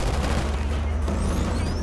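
Rapid bursts of gunfire in the video game Killzone Shadow Fall, dense loud shots rattling continuously with booming low impacts and a few whizzing streaks.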